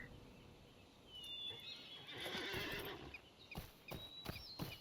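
Horse neighs and whinnies from the game Lord of the Rings Online, mixed with clip-clop hoof steps that grow busier toward the end, with no talk over them.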